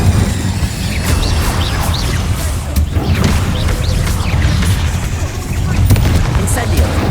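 Repeated Incendio fire spells cast in Hogwarts Legacy, a loud continuous rumbling roar with bursts of whooshing flame and booms, heavy and close throughout.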